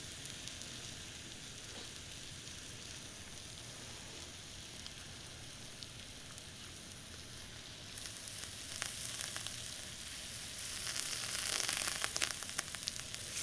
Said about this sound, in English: I like to just sear it off with some butter